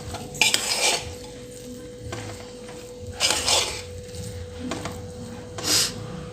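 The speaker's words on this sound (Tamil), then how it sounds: "இப்போ அதை கொஞ்சம் நல்லா மிக்ஸ் பண்ணி கொடுத்துக்கலாம்" Spoon scraping and clattering against a pot while cooked rice and dal are stirred together, three short bursts of metal-on-metal mixing over a faint steady hum.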